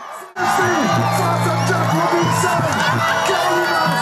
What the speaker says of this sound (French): Dans la foule, c'est l'euphorie totale.